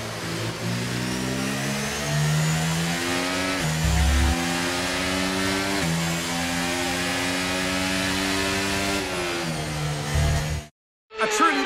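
Formula 1 car in the F1 23 racing game after the Canadian race, its engine droning steadily with rising and falling pitch as it revs through gears on the way back to the pits, loud and continuous before a brief cutout near the end.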